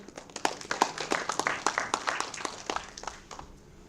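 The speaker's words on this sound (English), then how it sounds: "Let's all express our gratitude with a big round of applause for Dr. Prashant Karan" Audience applause fills a hall at the inauguration of an AICTE-sponsored cyber security faculty development programme, a dense patter of claps that swells briefly and then tapers off toward the end.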